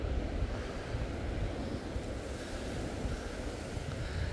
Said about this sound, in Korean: 오늘 파도가 조금 있네. 파도가 조금 있어요.